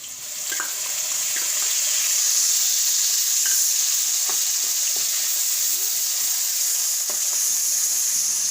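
Onions sizzle steadily in hot oil in a pan with chillies already added, a dense continuous frying hiss with occasional light pops and stirring scrapes, close and fairly loud, no voices.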